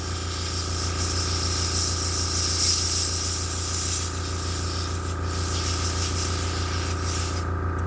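An airbrush spraying paint onto DAK tank models, a continuous close hiss of air over a steady compressor hum that holds level for several seconds and briefly dips partway through.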